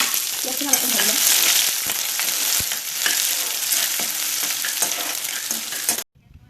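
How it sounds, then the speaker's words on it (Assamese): Chopped onions fry in a hot pan, giving a loud, steady sizzle with scraping stir strokes. The sizzle runs unbroken, then cuts off abruptly near the end. "পিয়াজখিনি অলপ ভাজি ল'ম।"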